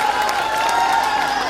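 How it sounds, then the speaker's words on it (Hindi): An audience at a national poetry gathering in Tulsipur claps and cheers in a brief, loud, dense burst over a steady background hum. "एक बार पूरा सदन तालियां बजा दीजिए।"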